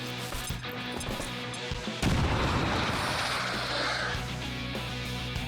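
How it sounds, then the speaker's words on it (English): Grenade explosion in XCOM 2 gameplay: a sudden loud blast rips through a busy mix of game music and effects, followed by a sustained rumbling crash that slowly fades. "Throwing grenade!"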